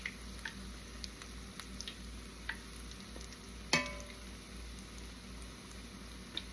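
Hushpuppies fry in hot oil with a steady close crackling sizzle, scattered small pops and one sharper clack partway through, heard alone without talk.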